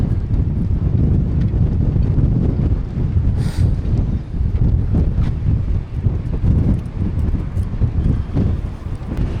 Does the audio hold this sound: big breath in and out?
no